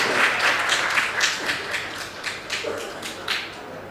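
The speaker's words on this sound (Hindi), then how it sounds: "सब तालियां बजाएं इस जवाब के लिए।" An audience at a Hindi Day celebration quiz claps for a correct answer, a moderately loud, uneven patter of hands rising and falling without speech.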